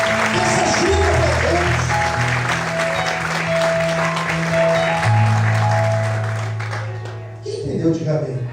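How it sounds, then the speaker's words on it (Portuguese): Church congregation applause at a night service, steady clapping over held organ-like chords that thins and fades near the end as a voice comes in. "Você pode aplaudir esse Deus nessa noite."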